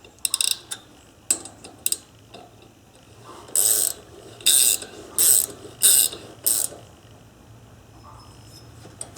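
A roller-type stud tool driven by a ratchet turns a threaded stud into an MTD ride-on mower engine, giving close, loud ratcheting clicks in quick bursts separated by short pauses.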